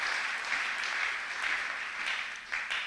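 A church congregation applauding with a sustained wash of clapping, even and fairly loud, swelling slightly toward the end.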